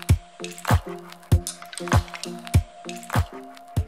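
A Red Sea ammonia test kit bottle leaking liquid, giving a steady rhythmic series of wet squishing drips, close and clear with no voices.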